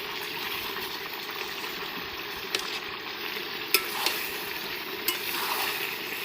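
Chicken sautéing in a pan with fried potatoes, stirred in a rural village kitchen: a steady sizzle with occasional sharp scrapes and clinks of a spatula, alone without talk.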